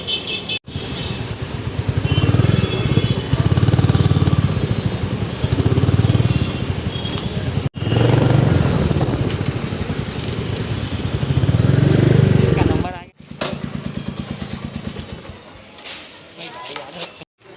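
A motorcycle rides through Hyderabad streets toward Khairatabad, its engine a steady close drone with bursts of revving and a few brief breaks, while people talk over it.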